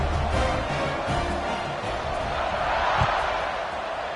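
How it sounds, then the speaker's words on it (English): Stadium crowd buzzing after a score in the video game College Football 26, a steady broadband roar filling the whole stretch with a brief thud near the end. "this crowd is buzzing after that last score"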